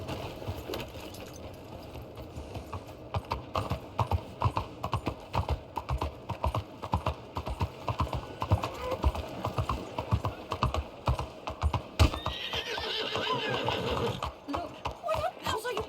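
Horse hooves clip-clopping at a gallop with a brief neigh in Red Dead Redemption II, a steady rapid rhythm of hoofbeats close up, mixed with game voices talking over it.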